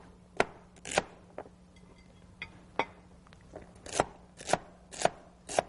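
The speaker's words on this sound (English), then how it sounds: "So I'm just going to dice up some of this celery while my butter is melting" Knife dicing celery on a cutting board for Cajun shrimp, a string of crisp, separate chops at an uneven pace, close and fairly loud, with a faint steady hum underneath.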